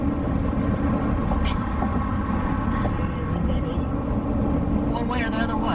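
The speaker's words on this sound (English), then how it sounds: "That car don't sound too good." A rough-running car engine drones steadily and loudly throughout, with a coarse, uneven low rumble, while voices talk nearby.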